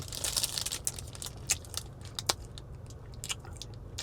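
Close, crisp crunches as someone bites into a crusty sweet potato salt bread roll, followed by a series of sharp chewing crackles at an uneven pace.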